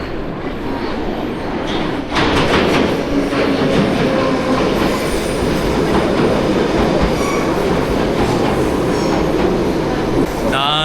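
A London Underground train pulls into the platform, with a loud rumbling roar, clacking wheels and squealing metal that build and stay close, while people talk faintly in the background.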